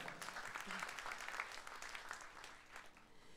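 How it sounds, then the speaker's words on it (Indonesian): A crowd claps steadily for a few seconds, a dense wash of hand claps at moderate volume with no voices on top. "Beri tepuk tangan sekali lagi."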